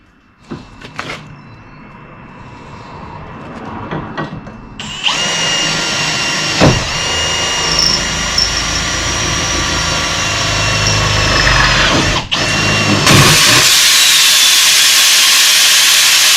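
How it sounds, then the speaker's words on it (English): A power drill whirs steadily for a long stretch, loud and close, with brief pauses and a few clunks before the motor picks up again. "And just these to drill from top."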